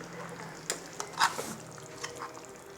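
Ground coconut paste stirred into a simmering chicken curry in a pan: a soft, faint sizzle with a few scattered wet splats and spoon clicks, no voices.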